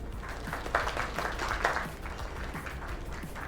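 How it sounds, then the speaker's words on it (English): An audience at a small live music gathering gives a round of applause, a soft, somewhat distant patter of many hands clapping steadily, with faint voices mixed in. "Another round of applause."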